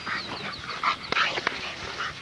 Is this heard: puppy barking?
yes